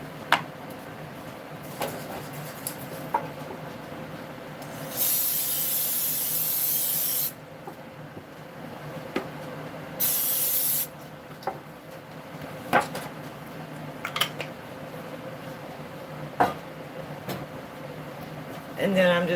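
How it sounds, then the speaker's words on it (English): Pam cooking spray hissing into a disposable aluminum pan in a home kitchen, two sustained bursts of a few seconds each amid light clatter and handling noises. "I'm going to spray my pan with some Pam."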